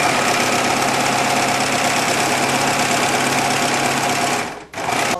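A sewing machine overcasts the inseam of drawstring trousers, running in a loud, continuous rapid stitching rattle that pauses briefly near the end before starting again.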